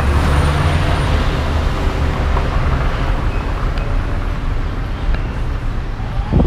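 Dense, loud street traffic flows past at close range, with a continuous rumbling roar of cars, buses and trucks and a few faint clanks rising above the steady wash of engine and tire noise.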